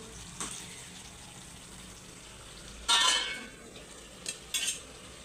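Chicken being stirred in a cooking pot while making dry chicken curry, with a few short scraping and clinking bursts of a utensil against the pot over a quiet background hiss.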